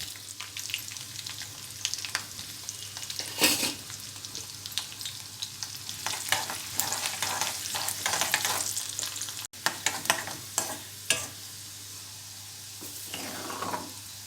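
Crushed garlic and dried red chillies fry in hot oil for a tempering, a continuous close sizzle with crackling pops and stirring scrapes, no talk.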